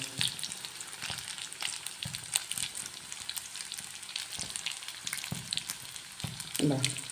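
Mutta appam batter sizzles and crackles in a hot pan, a steady close frying hiss with occasional louder pops and scraping stir sounds.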